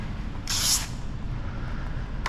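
A spray bottle of tack solution hisses once onto a car fender, a 1988 BMW M3 E30 being fitted with paint protection film, giving a short close burst followed by quiet room noise.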